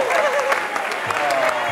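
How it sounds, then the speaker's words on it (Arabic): Studio audience applause on a game show, a continuous dense patter of clapping filling the room, with a voice speaking over it. "برافو تصفيق اقوى منك"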